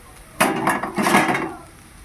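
Fried vegetables tipped into a pan of boiled chow mein for a veg chow mein: a sudden clattering, scraping rush of food against the metal pan, loud and close, fading out after about a second.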